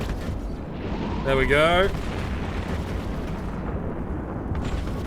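A cluster of missiles launches from a spaceship in EVE Online and bursts in deep, rumbling explosions that swell and roll on without pause, loud and heavy, with a person talking briefly over it.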